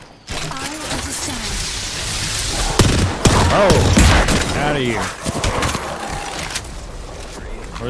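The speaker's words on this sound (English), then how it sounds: "I was getting shot in the back." Gunfire in the video game Apex Legends, with a steady, loud barrage of shots and impacts running throughout, and people talking excitedly over the shooting.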